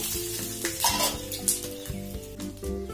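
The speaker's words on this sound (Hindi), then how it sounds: "तऽ ई फोरन दऽ रहल छियै" Spices tempered in hot oil, cumin first and then asafoetida and the rest added together, a loud close sizzle with stirring scrapes and light pan clatter throughout.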